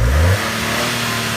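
A Suzuki Wagon R Hybrid engine, bonnet open, gives a brief close rev that drops quickly back to a steady, even idle hum.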